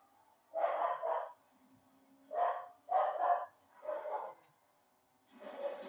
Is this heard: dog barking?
yes